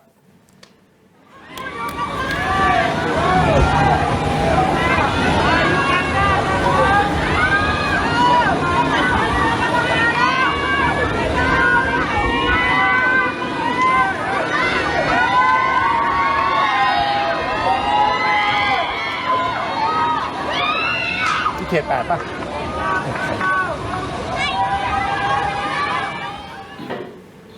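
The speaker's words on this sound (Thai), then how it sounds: "จะเป็นเสียงตะโกนร้องแบบเราอยู่กันได้เราอยู่กันได้" A crowd in a flooded Hat Yai district shouts and yells together in a dense, sustained roar of many voices, loud and continuous for most of the clip, with a brief spoken question near the start.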